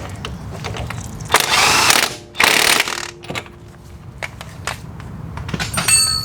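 A hand wrench ratchets while a coilover is fitted to an Abarth-swapped Fiat 500, with two loud bursts of rapid clicking near the start and lighter metallic taps and clicks after them.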